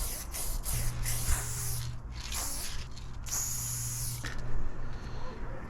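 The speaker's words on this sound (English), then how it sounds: "using the spray paints" Several short hissing bursts of a spray can, some brief and some longer, with a faint low hum underneath.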